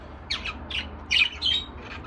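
Newly arrived breeding birds give a series of harsh squawks in quick bursts, about five calls close by over a low steady hum.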